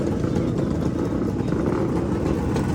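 Heavy street traffic near a seafood market in Tawi-Tawi, with cars and motorcycles, forms a steady, dense engine rumble and hiss, continuous and fairly loud throughout, without distinct individual passes.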